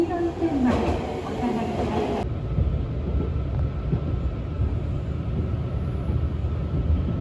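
A train in Japan, running between Matsumoto and Nagiso on the way to Tsumago, rumbles steadily inside the carriage with a low continuous roar. A brief brighter clatter comes near the start.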